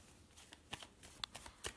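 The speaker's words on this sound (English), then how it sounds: "So I am now shuffling up the cards." Rune cards being shuffled by hand, a run of soft papery riffles and taps at close range in a quiet room, with no talking.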